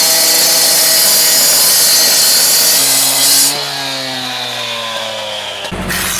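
A loud power saw grinds through rock for a swimming pool build in Texas, a harsh, continuous high-pitched cutting whine near at hand that then drops and winds down before stopping abruptly.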